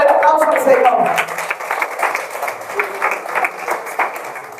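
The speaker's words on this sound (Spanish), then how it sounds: "pero fuerte el aplauso al Señor" A church congregation claps for the Lord, a dense run of rhythmic hand claps that carries on beneath a loud voice speaking over it.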